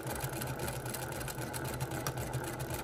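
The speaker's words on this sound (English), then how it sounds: "my machine is moving pretty slowly at this point" A sewing machine runs slowly during free-motion quilting, giving a steady, close motor hum with faint rhythmic needle pulses throughout and no talking.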